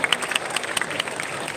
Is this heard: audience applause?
yes